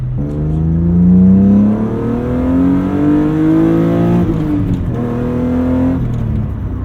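A manual-swapped BMW E36 M3 on a test drive, its engine droning loud and close as it pulls and rises in pitch, easing briefly between gears before climbing again. No talking over it.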